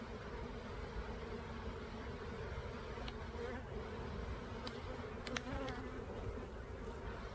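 Honeybees in an opened hive hum in a dense, steady drone close by, with individual bees zipping past now and then. The swarm sounds restless rather than calm.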